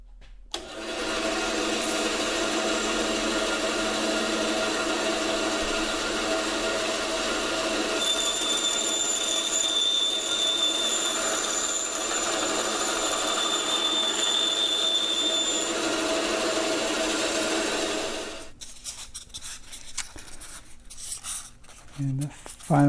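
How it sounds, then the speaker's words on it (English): A bandsaw cuts a fabricated pad extension for a KingSong S22 electric unicycle with a steady, continuous whine and hum for about sixteen seconds, close and loud, then stops and leaves quieter workshop noise. "So I'll cut that now on the bandsaw."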